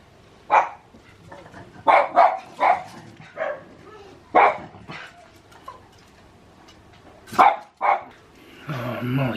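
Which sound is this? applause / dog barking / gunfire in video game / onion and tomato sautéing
dog barking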